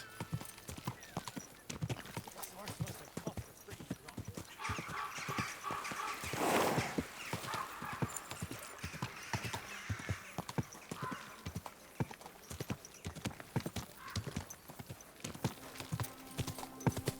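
Horse hooves clip-clopping in Kingdom Come: Deliverance II, a steady rhythmic clatter of hoofbeats throughout, with a brief whoosh of movement partway through.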